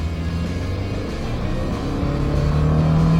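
A 2024 Subaru Impreza RS with its naturally aspirated 2.5-liter engine accelerating hard from a standstill, a steady droning engine note rising gradually in pitch and loudness, heard from inside the car with no talking.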